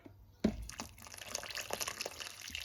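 Boiled water from a jug pours into a pot of beef broth stock, a sudden splash followed by soft, uneven trickling and dripping, faint and close.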